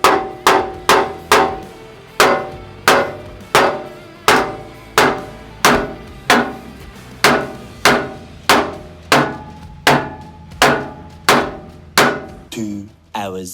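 Hammer bashing a stuck power steering box seal on a Toyota LandCruiser 80 series, a long run of loud, close metallic blows at a steady, slightly uneven pace, ending with a few softer hits.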